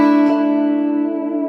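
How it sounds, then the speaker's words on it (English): A sustained electric guitar chord through a Mesa Boogie Mark V amp's clean channel rings out with a splashy, echoing spring reverb tail that slowly fades. "I'll show you what the spring reverb does."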